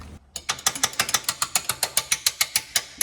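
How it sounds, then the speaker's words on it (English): A hand ratchet undoes a 17 or 19 mm jam nut on a rear wheel bearing of a 2001–2005 Lexus IS300, a close, loud run of rapid, evenly spaced clicks with no talk. "So we're gonna undo this 19 millimeter or 17 millimeter jam nut."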